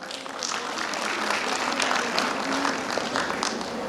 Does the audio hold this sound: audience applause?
yes